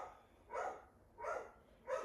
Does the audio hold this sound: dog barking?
yes